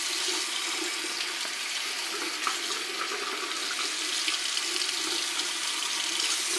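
Water runs steadily from a bathroom tap into a sink, making a loud, close, unbroken hiss and splash throughout, with no talking.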